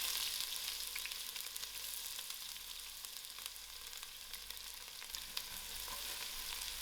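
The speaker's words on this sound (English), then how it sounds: "I'll allow this onions to fry soft." Onions sizzling softly in heated oil and ghee in a pan, a continuous fine crackle and hiss with occasional stirring, steady and fairly quiet, with no voices.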